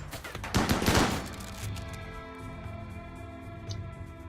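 An automatic shotgun fires in the video game RimWorld: a dense burst of rapid blasts, loud and close, then a long ringing tail fading under faint game noise.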